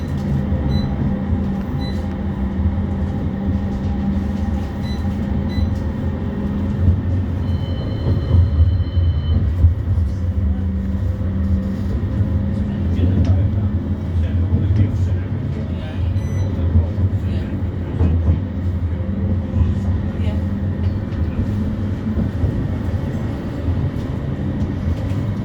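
West Midlands Metro tram 31 running, heard from on board: a steady low rumble and hum of motors and wheels on track, with brief whines and rattles over it and no speech.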